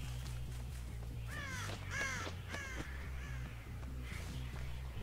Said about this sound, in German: Und hier sind Raben.